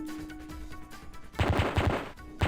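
Rapid bursts of gunfire from the Mac game Pathways Into Darkness, starting midway as a loud, dense volley of repeated shots, with a brief lull before another burst at the end.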